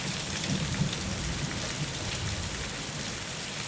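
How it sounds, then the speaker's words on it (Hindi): Steady rain pours down with a constant broadband hiss, while low rumbles suggest distant thunder rolling beneath it; no voices. "अब तो बारिश आ गई है।"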